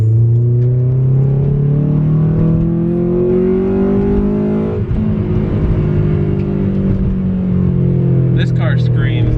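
A Honda Civic Si EM1 engine revs hard into VTEC, loud and close, its pitch climbing in two long sweeps with a brief dip between, then holding a strained high note.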